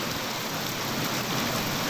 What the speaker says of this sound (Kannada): ಸವದತ್ತಿ ಯಲ್ಲಮ್ಮನ ಗುಡ್ಡದಲ್ಲಿ ಧಾರಾಕಾರ ಮಳೆ ಸುರಿದಿದ್ದು